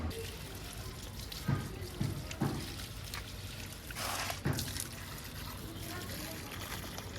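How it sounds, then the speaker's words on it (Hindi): Water is poured onto potted plants in uneven splashes and trickles with a few sharper spills, under faint background voices. "पौधों में पानी डाल दिया है।"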